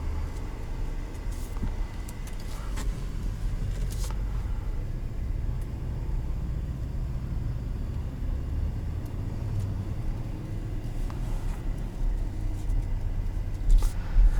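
Steady low road rumble and engine hum inside a moving 2021 Nissan Armada Platinum, continuous and even with faint cabin rattles and no talk.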